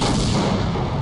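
A grenade explosion in Half-Life: Opposing Force, a loud, dense, sustained booming blast filling the whole short moment with heavy low rumble and no clear onset.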